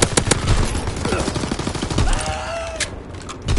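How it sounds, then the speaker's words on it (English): Rapid machine-gun bursts in a console war game as counter-recon aircraft strafe enemy recon, dense loud rattling shots clustered in the first second, then scattered pops under engine noise and a short whistling tone. "Engaging enemy recon aircraft."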